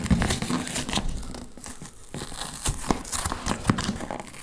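A box holding a Speck case for a 17-inch MacBook Pro is opened by hand, with repeated close crinkling, crackling and tearing of cardboard and plastic packaging in irregular bursts, no talk.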